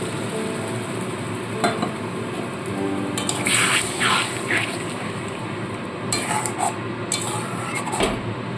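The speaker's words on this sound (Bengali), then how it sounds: "এবার আমি এখানে পরিমাণ মতো জল দিয়ে দেবো।" Water is added to a simmering pointed gourd and sesame curry with spices. It gives a loud, continuous sizzling hiss, with scattered utensil clinks against the pan.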